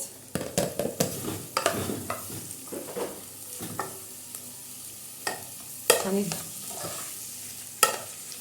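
Chopped onions fry in oil for kebab while a spoon stirs them, irregular scraping knocks and clinks over a soft sizzle, close and moderately loud with sharp peaks.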